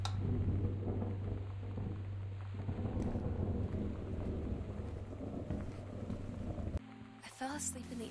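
Thunderstorm with steady rain outside a house in the video game Gone Home, a continuous low rumble and hiss of rain throughout, moderately quiet, shifting near the end.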